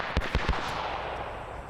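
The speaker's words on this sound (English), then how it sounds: "I'm relying on those gunshots to tell me" Three quick, sharp gunshot cracks sound in a 1948 Arab–Israeli battle video game, spaced about a fifth of a second apart. The muffled reports fade into a steady background wash, and no voices are heard.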